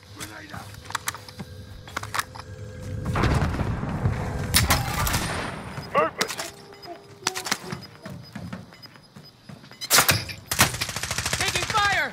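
Gunfire in Call of Duty Modern Warfare Warzone, with automatic bursts and single shots cracking repeatedly over the game's background noise while players talk over it.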